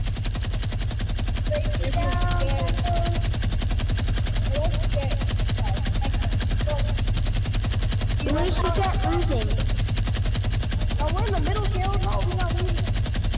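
Rapid gunfire rattles in a Fortnite match, heard as a steady dense buzz of shots with bursts of louder fire around the middle and later, while several players talk over it.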